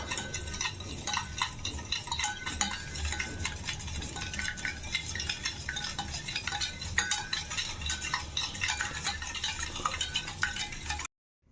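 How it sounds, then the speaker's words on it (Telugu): Egg mixture with chili powder, turmeric and salt whisked briskly in a bowl, a rapid, continuous clinking and sloshing close by that stops abruptly at the end, with no talking. "కారం కొంచెం పసుపు కొద్దిగా సాల్ట్ వేసుకొని దీన్ని బాగా బీట్ చేసుకోవాలి"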